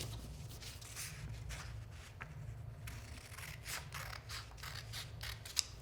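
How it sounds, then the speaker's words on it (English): Scissors snip through a folded sheet of paper along one edge, a series of soft, close crisp cuts and paper rustles over a low steady background hum. "I'll then cut along this edge."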